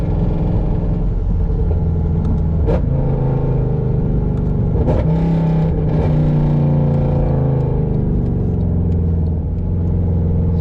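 Mercedes C63 AMG Black Series fitted with a carbon fiber drive shaft and Cup 2 tires, heard from inside as a loud continuous engine drone whose pitch rises and falls with throttle, with no talk over it.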